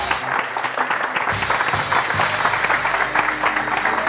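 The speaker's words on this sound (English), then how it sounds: "We'll give him the warmest rock star applause." A standing audience at a Startup Grind Barcelona talk gives loud, dense, continuous applause that fills the room, with faint voices mixed in.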